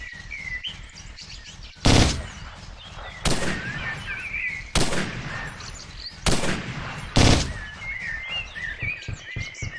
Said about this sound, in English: we may find one of our soldiers shooting at a pinned down target, keeping him busy